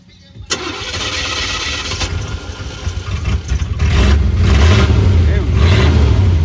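A 1985 Chevy El Camino engine cranks and catches, then settles into a loud, rough idle before revving up with rising, pulsing throttle blips, close and steady.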